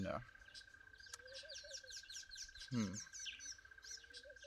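Small birds chirp and twitter in quick repeated calls outdoors, fairly faint, over a steady high electronic-like tone and a brief low voice.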